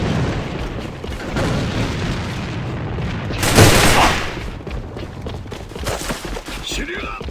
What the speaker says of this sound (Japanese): 敵手榴弾。